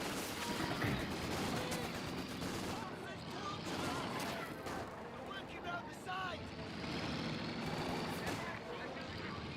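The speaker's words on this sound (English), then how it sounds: "Assault Grenadiers do get suppressed there by the Vickers" Vickers machine gun fire suppressing Assault Grenadiers during a Company of Heroes 2 battle, as dense gunfire and explosions fill a continuous loud wartime din under a commentator's voice.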